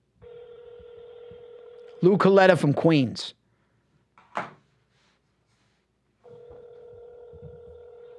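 A telephone line gives a steady, buzzing ringback tone while a call is placed to a man in Queens during a sports podcast; a voice speaks briefly in the middle, then the tone resumes.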